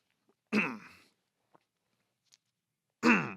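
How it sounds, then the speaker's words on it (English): Two harsh, throaty coughs close to the mic, separated by a couple of seconds of near silence with faint small clicks between them. "I've never been able to get rid of this cough I've had for like the past 2 months already"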